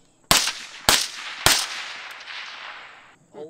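Three sharp, loud rifle gunshots from a gun with a modern buffer system at a tactical training range, spaced about half a second apart, each followed by a long echoing decay.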